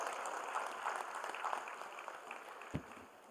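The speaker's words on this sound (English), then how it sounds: "Kindly keep the applause going." An audience applauds at a formal government conference session, a faint, steady patter of clapping heard from a distance without voices.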